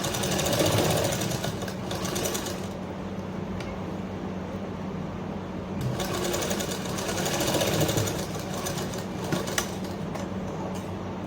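Sewing machine stitching a seam along a kurta collar, a steady close mechanical whir with rapid needle chatter that runs continuously, briefly easing in the middle before picking up again.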